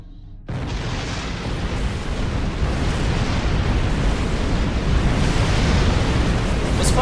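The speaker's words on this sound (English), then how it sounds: "Detonating the charges." Detonated charges going off in the Star Trek Online game, a sudden blast after a brief hush that swells into a loud, sustained rumbling roar lasting several seconds.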